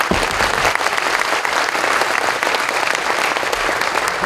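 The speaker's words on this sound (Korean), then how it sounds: "오늘 귀하게 특강의 말씀을 주신 우리 목사님께 큰 박수 다시 한번 부탁드립니다." A church gathering applauds a pastor after a special lecture at a men's fellowship national convention at a resort in Gyeongju, producing sustained, dense clapping from many hands that holds steady and fills the room without speech.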